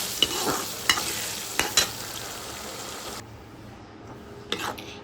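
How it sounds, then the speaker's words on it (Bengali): Egg korma stirred in a sizzling pan, with a spoon scraping in several brief bursts over a steady frying hiss that drops off partway through before one last close scrape. "দিয়ে ভালোভাবে নাড়িয়ে নিচ্ছি"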